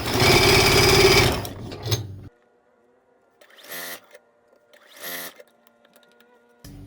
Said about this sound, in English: I'm just putting these end to end and sewing them all together to get the sashing that I need